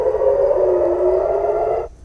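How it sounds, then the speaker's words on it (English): A loud, steady wailing air raid siren in Israel holds a single tone for about two seconds, then cuts off abruptly, leaving faint background hiss. "Warning sirens blaring across Israel again tonight as missiles were seen over the skies of Tel Aviv and Jerusalem."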